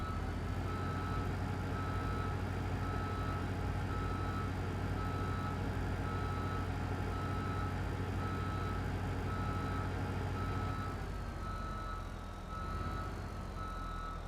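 A farm vehicle in Farming Simulator 2015 backs out, its reversing alarm beeping steadily in a long even series over a constant engine drone, with the beeping dropping away near the end.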